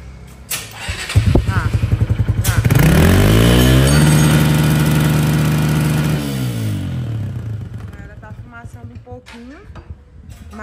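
A Honda Bros motorcycle engine is cranked and catches, rising into a loud, close, steady running roar with a rhythmic pulse for several seconds before dropping back toward a quieter idle.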